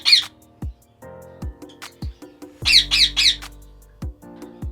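A breeding pair of ring-necked parakeets gives loud, harsh squawks in short bursts, with one triple-call cluster in the middle, over faint low background noise and no talking.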